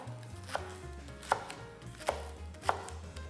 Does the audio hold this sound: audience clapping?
no